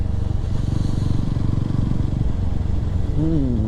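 A motorcycle engine drones steadily and loudly throughout a long highway ride from Bhopal to Ujjain, with wind noise, and a brief rising tonal whine near the end.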